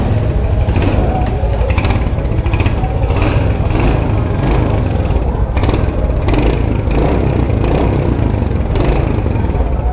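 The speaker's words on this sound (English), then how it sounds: "So that's how the exhaust sounds." A Royal Enfield Hunter 350 motorcycle engine runs loud and close, its exhaust rumbling and blipping in repeated revs throughout.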